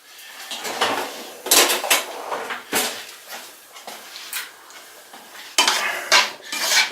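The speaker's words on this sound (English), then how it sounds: "I need to stir the rice." A spoon stirring rice in a metal pot, with repeated scraping and clanking strokes in irregular bursts, close and fairly loud, with no talking.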